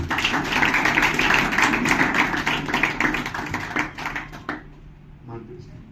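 A church congregation at a Sunday morning service applauds after candles are lit, with dense, brisk clapping for several seconds that fades to a few scattered claps.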